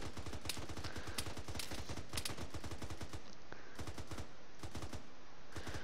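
Gunfire in the military video game Arma 3: rapid, sharp bursts of automatic shots crack repeatedly in quick succession, with short gaps between volleys and no talking over them.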